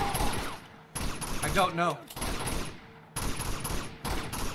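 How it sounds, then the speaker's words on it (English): Repeated bursts of gunfire in a firefight inside a monastery in Uncharted 2: Among Thieves, loud, clustered volleys separated by short gaps, with a brief voice speaking between shots. "How long is this firefight?"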